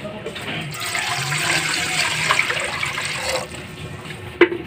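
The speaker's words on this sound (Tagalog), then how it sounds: "Guys, ilalagay na natin yung 7 cups na tubig." Water pours steadily into a container for a fruity popsicle mix, a continuous splashing fill lasting a few seconds before easing off, with a small knock near the end.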